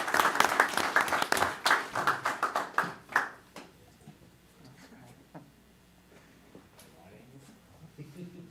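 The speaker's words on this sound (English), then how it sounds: "let's do a round of applause" A short round of applause from a small group at a village board meeting, sharp individual claps for about three seconds, then scattered faint taps and room noise.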